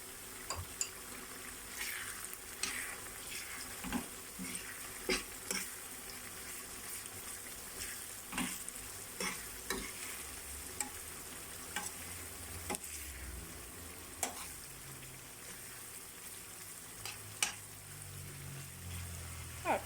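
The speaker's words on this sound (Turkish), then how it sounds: "Evet, şimdi soğanımızı kavurduk." Chopped onions sauté in a pan for spinach börek, a soft, steady sizzle broken by regular scraping clicks of a utensil stirring, faint and close.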